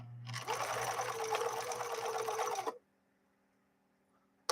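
A vintage Swedish sewing machine running a straight stitch: a steady, fast mechanical whirring and clatter lasting about two and a half seconds, close and clear, then near silence.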